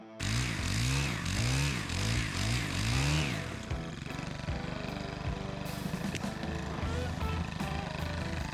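A gas chainsaw cutting a tree root in a backyard roars loudly in rhythmic revving surges for about three seconds, then drops to a steady idle with clunks and a brief hiss.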